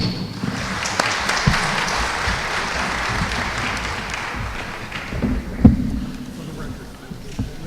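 Audience applause at the close of a congressional field hearing on South Texas jobs and the economy, a steady broadband clatter of many hands that holds for several seconds before thinning out, with a few louder claps near the end.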